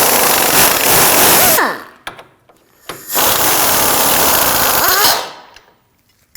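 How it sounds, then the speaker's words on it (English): Powered socket tool with an 18mm socket removing a lower control arm bolt on a 2006-2009 Audi S4: two loud, close, rattling bursts, the first about one and a half seconds long and the second about two seconds, separated by a brief quiet gap. "Using a 18mm wrench, 18mm socket, we're going to take this bolt out."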